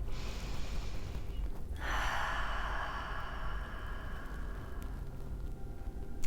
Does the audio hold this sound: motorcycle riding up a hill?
no